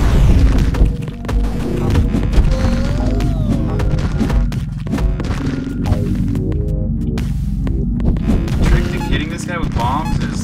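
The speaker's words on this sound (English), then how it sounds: "Okay, wasted a bomb." A bomb explodes in the video game Songbringer amid a dense, loud mix of booming hits, crashes and game music, with a few brief tonal sweeps layered over the clatter.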